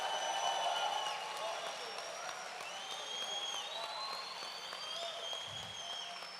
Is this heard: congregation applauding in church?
yes